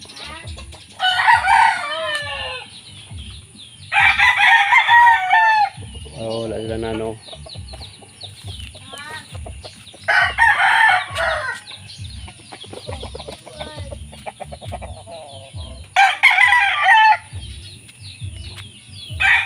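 Free-range roosters crow repeatedly in loud bursts, with hens clucking between, and a person speaks briefly among the birds.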